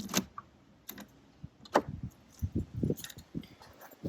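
A ring of keys jangles and clicks while the fuel door of a 1982 Ferrari 308 GTS is unlocked, with sharp metallic rattles up close followed by softer handling clatter and a couple of short knocks.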